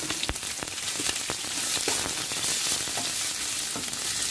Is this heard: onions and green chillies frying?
yes